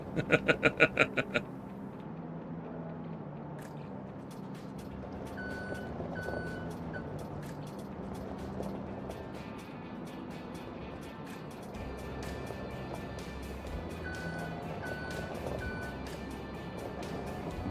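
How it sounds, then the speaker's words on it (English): Truck reversing beeper in Farming Simulator 25, a rapid burst of sharp repeating beeps at the start, then softer machinery hum with faint periodic tones continuing underneath. "Got the annoying ass little beeper and everything."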